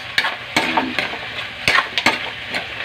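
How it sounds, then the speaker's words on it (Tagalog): Adobo with oyster sauce being sautéed in a pan, with a spatula scraping and knocking in several sharp strokes over a steady close sizzle. "Yan, naigisa ko na yan."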